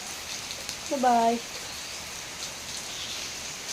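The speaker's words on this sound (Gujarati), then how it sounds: "વરસાદ અમારે બહુ એટલે બહુ જ છે." Heavy rain pours down at night with a steady, even hiss, while someone talks briefly near the start.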